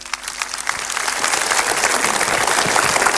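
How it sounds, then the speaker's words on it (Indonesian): Applause from a seminar audience swells from a light patter into a loud, dense, sustained clapping that fills the room for a few seconds. "Tepuk tangan sekali yang meriah untuk Mario Teguh Golden Ways."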